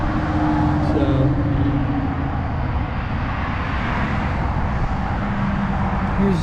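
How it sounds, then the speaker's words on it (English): Loud highway traffic near Moab heard from the roadside, a dense continuous roar of passing vehicles with a wind-like rush, steady and close throughout. "here's the highway we drove in on. It's a very loud highway."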